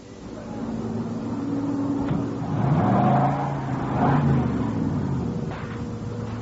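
Engine of a car idling and moving through a gas station's ten-minute car wash, staged as a radio drama sound effect, with a steady low rumble swelling twice as if creeping forward.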